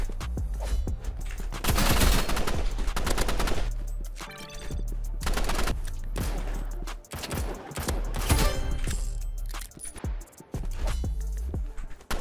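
Rapid bursts of gunfire in the Roblox game Rivals, loud volleys of shots firing in quick succession with short pauses between clusters, no talk over them.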